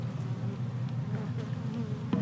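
Honey bees buzzing loudly at an opened, freshly cracked hive, a dense continuous drone of many agitated bees close by, steady throughout with a brief louder swell near the end.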